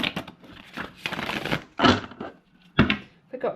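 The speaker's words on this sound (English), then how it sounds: "Let's give the cards a good shuffle to start us off." Tarot cards being shuffled, with papery riffles and soft flicks in bursts, plus a couple of sharper taps, close by.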